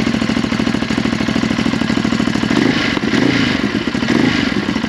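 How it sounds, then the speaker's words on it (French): A 2022 Ducati Hypermotard 950 SP fitted with a Powerworks Racing decat pipe runs close and loud, its twin-cylinder engine pulsing in a steady, throbby idle with a slight blip partway through and no talking. "Et on va tester au démarrage."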